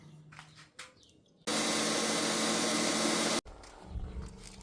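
A bandsaw slices through a cast block of burl wood and hardened epoxy for drink coasters, giving one loud, steady two-second roar that starts and stops abruptly between quieter handling noises.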